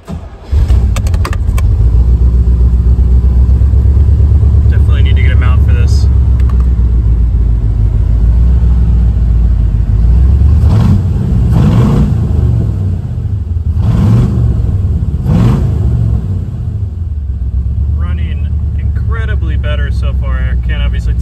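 A 1966 Corvette engine, newly converted to fuel injection, turns over on its first start and runs with a steady low rumble, rising in a few revving surges, loud and close throughout.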